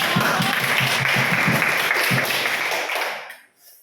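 Classroom applause from high school students, a dense steady burst of clapping that fills the room for about three seconds before fading out quickly.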